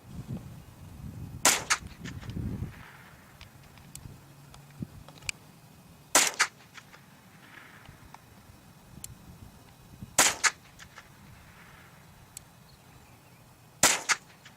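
A .22 LR rifle fires at a half-inch pine board 450 yards away, four sharp cracks spaced a few seconds apart and fairly loud over quiet outdoor ambience.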